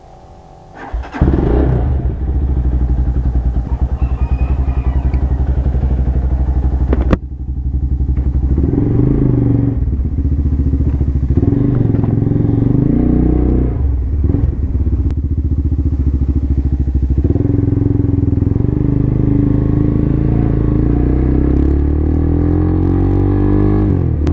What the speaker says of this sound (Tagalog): Painitin muna natin yung makina.